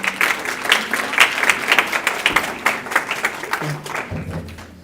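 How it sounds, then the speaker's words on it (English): A seated audience at a university language policy forum gives a round of applause, many hands clapping in a dense, uneven patter that gradually thins and softens toward the end. "Please give him a round of applause."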